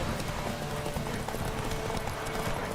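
Horse hooves clip-clop in a steady galloping rhythm in The Witcher 3, a continuous mid-level patter with no voices over it.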